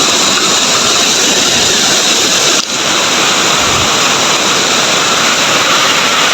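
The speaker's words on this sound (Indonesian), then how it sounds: "Suara airnya agak deras" Water rushes heavily over an old Dutch colonial-era dam, a loud, dense, unbroken roar filling the whole stretch with only a brief dip partway through.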